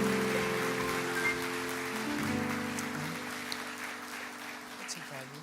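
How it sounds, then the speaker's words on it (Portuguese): A church congregation applauds during a worship service, a soft wash of many clapping hands beneath sustained organ-like music and voices, steady and somewhat distant. "Você pode aplaudir, igreja, em nome de Jesus"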